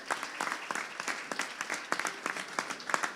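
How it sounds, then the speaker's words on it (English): An audience at a sales leaders awards event claps in steady, dense applause throughout, close and lively, with no voices over it. "James Hall from Snowflake, round of applause."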